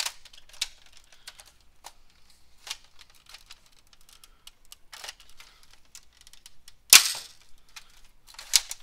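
Longshot dart blaster fitted with a hybrid kit, 8 kilogram spring and standard darts, firing in a sequence of faint sharp clicks and snaps, with a louder crack near the end.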